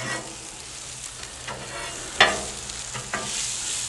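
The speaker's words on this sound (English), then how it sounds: "All right, so now we got the onions going there." Onions fry on a Blackstone griddle with a continuous close sizzle, broken by a few sharp scrapes and clicks of a spatula.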